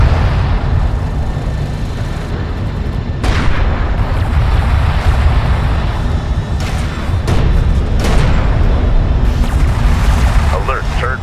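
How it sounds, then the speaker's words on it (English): Heavy explosions and artillery booms strike a turret under fire in Homeworld: Deserts of Kharak, several loud thumps spread over a continuous battle rumble, with a voice speaking between the blasts. "One of our turrets is taking fire."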